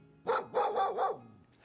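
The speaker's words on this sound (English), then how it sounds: "He was interrupted by sudden urgent barking." A dog gives three or four quick, insistent barks close by, loud and urgent, then falls silent.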